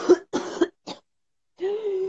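A person coughs hard, as if trying to cough something up. Three short, close coughs are followed by a pause and then a longer, strained throat sound.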